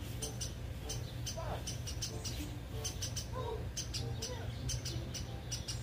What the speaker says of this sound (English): Oh my God, it's a bird right above me.